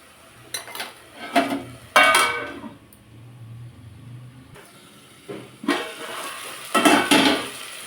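Dill greens fry in oil in a pan while being stirred, producing bursts of hissing sizzle and scraping that swell and fade in several waves, close and fairly loud.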